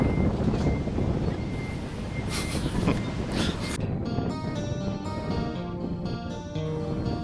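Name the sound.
strong wind blowing on the camera microphone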